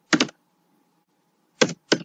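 Computer keyboard keys are tapped in three short clusters of quick, close clicks separated by silence.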